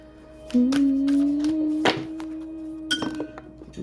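A drinking glass clinks a few times while water is fetched, each sharp tap leaving a lingering ringing tone, close and fairly loud, with no talk.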